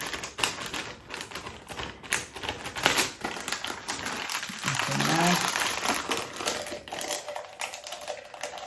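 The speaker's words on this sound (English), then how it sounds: "I get a plastic bag and fill it with water and lay it over the top" A plastic bag filled with water crinkles and rustles close by in continuous crackling bursts over a vegetable ferment, with a voice speaking briefly partway through.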